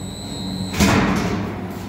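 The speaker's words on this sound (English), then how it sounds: "So if I open, let's say, like the back door as an example" The back safety door on an AMFEC 7886 blender swings open with a single dull thud and a short rattle near the mic, over steady machine hum.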